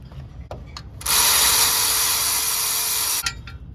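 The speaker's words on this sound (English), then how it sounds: "I'll bring my battery ratchet in to finish the job" A cordless battery ratchet whirs in one loud, steady burst of about two seconds while loosening a bolt on a B18 transmission in a junkyard, with a few clicks and knocks before and after.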